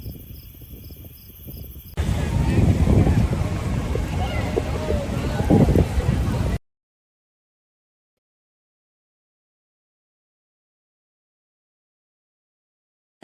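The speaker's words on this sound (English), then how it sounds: "So windy, that rain was hitting us." Strong wind during a rainy late-summer storm in Minnesota, loud gusty buffeting on the microphone for several seconds, followed by abrupt silence.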